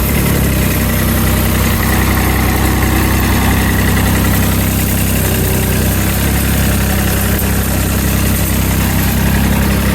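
Diesel Sears garden tractor engine idling steadily with a constant low rumble and vibration, close and loud throughout, no talk; the start itself is not evident.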